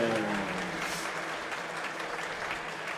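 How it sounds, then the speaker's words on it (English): Crowd applause at the Kingdom 10 fight show at Boxpark Liverpool, honouring both fighters: a steady, dense wash of clapping that holds evenly through the moment, with a faint voice mixed underneath. "please a big round of applause"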